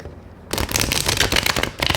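Stiff tarot cards riffled and shuffled in quick bursts after a brief quiet start, crisp papery flutters repeating close by.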